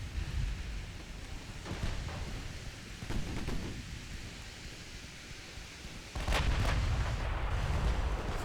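A naval gun fires a ranging shot in Ultimate Admiral Dreadnoughts, heard as a distant rumbling boom that swells near the end over a steady low background of sea and battle ambience.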